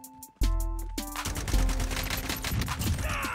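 Call of Duty Warzone gunfire erupts suddenly and loudly after a brief quiet moment, then continues as a dense, close, rattling fusillade of overlapping shots.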